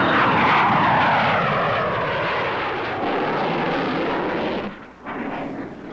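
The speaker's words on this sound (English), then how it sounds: "To sharpen their flying reflexes, there is practice in T-38 jets, in helicopters" A T-38 jet aircraft roars past overhead, loud and sweeping, its tone gliding downward before the noise briefly dips and returns.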